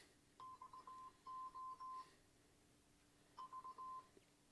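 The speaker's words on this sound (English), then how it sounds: "So it gives you like a Morse code type sound." A Muzen Wild Mini portable Bluetooth speaker gives three short bursts of rapid, steady electronic beeps, like Morse code, as it powers on and pairs, faint and alone in a quiet room.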